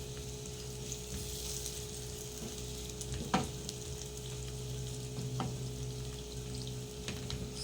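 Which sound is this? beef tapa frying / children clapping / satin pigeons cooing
beef tapa frying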